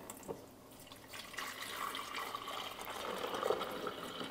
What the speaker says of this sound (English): you're gonna fill it up with the amount of water that you want to brew